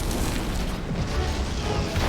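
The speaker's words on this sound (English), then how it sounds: "Red's MCVs pushed too far forward, can be hit now by artillery and the prism cannon of the Mirage tank." Artillery shells and Mirage tank prism cannon fire pound MCVs in Red Alert 3, a dense, continuous roar of booms and crashing impacts layered together, loud and unbroken throughout.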